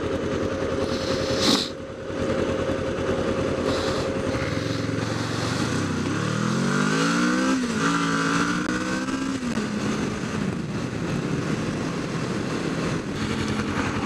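A new motorcycle accelerates through its gears with rising, sliding engine pitch over steady wind rush, heard up close from the rider's position.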